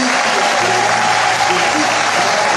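A church congregation applauding, a dense, loud, steady wash of clapping from many hands throughout, with voices mixed into the crowd noise.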